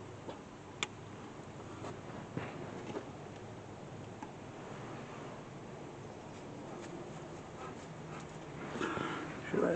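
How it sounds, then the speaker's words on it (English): A dog pants steadily and close by during a brake job on a 2015 Subaru Forester, with faint clicks and tool handling mixed in. "It's Champ Champ, the wonder dog"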